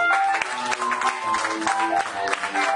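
A church congregation applauds, irregular bursts of clapping mixed with voices and a sustained tone, moderately loud and close throughout.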